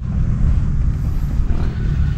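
Steady low rumble of traffic in a busy parking lot driveway, heard from inside a parked Mitsubishi Mirage G4, continuous and muffled, with no talk.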